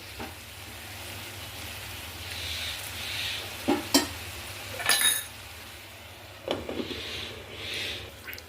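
Ash gourd cooked with shrimp is stirred with spices in a pan, giving a soft steady scraping with a few sharp utensil clinks against the pan and a faint sizzle underneath, with no talking.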